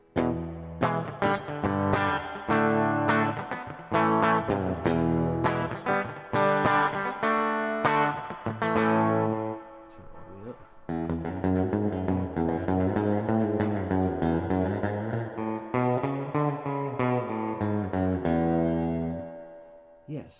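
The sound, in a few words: guitar with spring reverb effect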